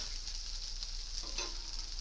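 Egg dosa batter sizzles quietly on a hot pan, a soft, even crackling hiss with a few slightly brighter pops partway through, heard alone at low level.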